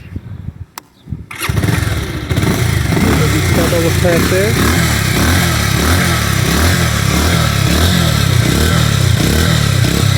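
A used motorcycle with 5,327 km on it is started after a brief click and settles into a loud, steady, close idle that runs on evenly, while someone talks over the engine.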